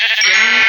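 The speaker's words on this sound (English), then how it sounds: "For sheep, there's a lot of sheep." Sheep bleating in a Minecraft-style crafting game, a single loud, close, wavering bleat lasting under a second.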